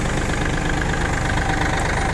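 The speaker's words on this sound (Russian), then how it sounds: "такой трактор Янмар, напомню, F195" Yanmar F195 mini tractor engine idling with a steady, even diesel rumble, close and continuous without variation.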